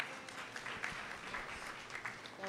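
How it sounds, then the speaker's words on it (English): Audience applauding at the closing ceremony of a Caribbean population and development forum, faint continuous clapping throughout a short stretch. "Another round of applause,"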